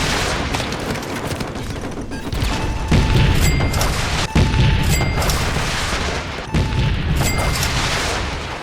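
Javelin missiles striking tanks in the video game Call of Duty 4: Modern Warfare, with loud, deep booming explosions and crashing impacts over a sustained roar of battle, punctuated by several sharp blasts.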